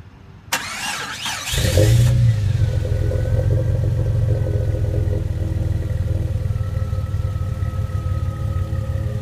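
A lifted Jeep Cherokee Sport XJ cranks briefly, catches and rises into a rev, then settles into a steady, loud idle heard up close.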